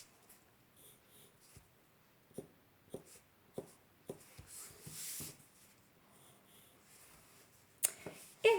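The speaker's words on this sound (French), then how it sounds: "je vais pouvoir faire ma deuxième série de triangles pour dessiner mon soleil." Pen or marker strokes drawing triangles for a sun on paper, a series of short close scratches and taps spaced a second or so apart, with a longer rubbing stroke midway and a louder shuffle at the end.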